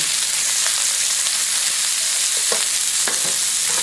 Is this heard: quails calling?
no